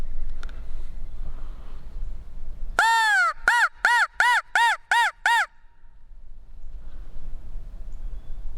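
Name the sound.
crow call imitating crow caws, turkey hunting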